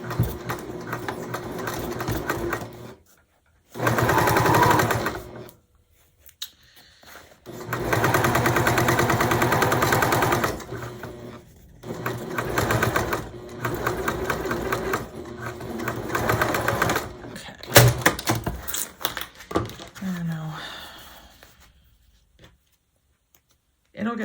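Sewing machine stitching a crossbody bag, running in several loud bursts of a few seconds each, separated by pauses; a voice talks between and around the stitching runs.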